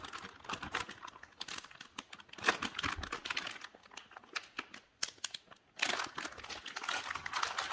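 A plastic bag being folded back up beside an offset smoker, with close, irregular bursts of crinkling and crumpling and short pauses between them, and no voices.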